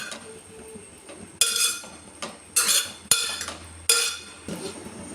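A spoon stirs jackfruit erissery boiling in a pot, producing several sharp metallic scrapes and clinks against the pot at irregular intervals over a low, steady bubbling background.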